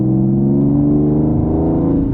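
Inside a Nissan 370Z fitted with a Motordyne Shockwave exhaust, a steady low engine drone fills the cabin while cruising, loud and constant with a slight pitch change and no talking.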